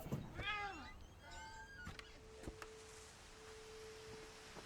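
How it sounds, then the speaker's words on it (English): Kitten meowing in the video game What Remains of Edith Finch, a few high, rising mews near the start, followed by a steady faint tone over quiet ambience. "I heard a kitty!"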